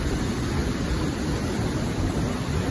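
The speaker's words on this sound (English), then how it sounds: "We'll wait until big waves kick in." Ocean waves breaking on a shore make a steady, loud, broadband wash of surf that fills the whole clip without letting up, and no voices can be heard.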